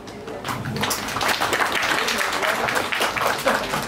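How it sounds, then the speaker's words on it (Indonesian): A crowd applauding at a comedy performance at a foundation in Bali, steady clapping throughout at moderate level, with voices mixed in underneath. "tepuk tangan"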